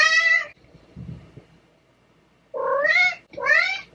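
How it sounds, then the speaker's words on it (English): A house cat meows loudly three times, one long call, a pause with faint soft handling noise, then two close, drawn-out meows in quick succession. "I apologize in advance if you hear a bunch of meowing."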